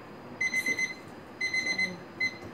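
A kitchen timer rings while dumplings cook, sounding clear, close beeping bursts of four quick beeps, a pause, another four, then a shorter burst, over faint room noise.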